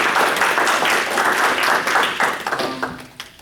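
A student senate meeting audience applauds two newly introduced officers: a dense, steady burst of clapping that tapers off over a few seconds, with no voices.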